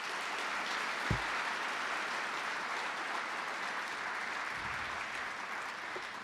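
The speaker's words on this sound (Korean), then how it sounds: "많은 박수 부탁드립니다." A hall audience applauds steadily at a company anniversary ceremony during a long-service plaque presentation, a dense, even wash of many hands clapping throughout with one sharp thump near the start.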